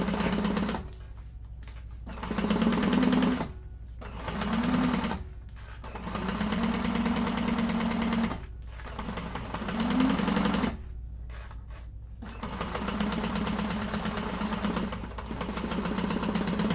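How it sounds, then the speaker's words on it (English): A sewing machine chain stitches fabric pieces for a bag one after another without breaking the thread, running in close bursts of steady motor hum and needle clatter separated by brief quiet gaps. "I'm going to chain stitch these so I don't have to break my thread."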